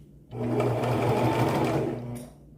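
A sewing machine runs in one steady, close burst of rapid stitching on gingham fabric for a scrunchie, starting and stopping abruptly.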